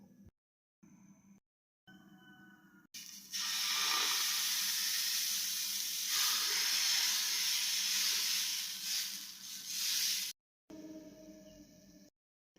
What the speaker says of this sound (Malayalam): ഞാൻ ദോശയാണ് ഇപ്പം ഉണ്ടാക്കാൻ പോകുന്നത്.